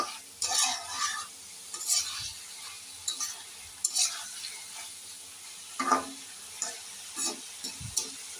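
A pan of kochur loti (taro stolons) mixed with lemon juice is stirred with a spoon, producing intermittent scraping and clinking strokes over a soft sizzle, close and moderately quiet, with no voices.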